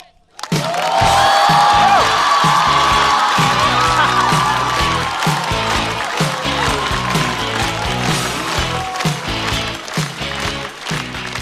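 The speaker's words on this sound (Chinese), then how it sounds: "掌声有请海波。" Audience applause and cheering rise loudly and hold steady for a stand-up comedian named Haibo walking on at a Chinese stand-up comedy show, with a voice briefly audible over the dense crowd noise.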